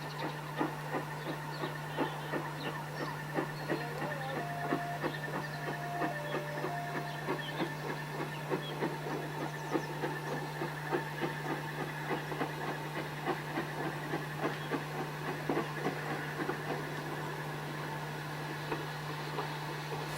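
Steam locomotive 41312 runs round a Golden Arrow luncheon train at Horsted Keynes station on the Bluebell Railway, giving a soft, steady, regular beat over a constant low hum, distant and fairly quiet throughout.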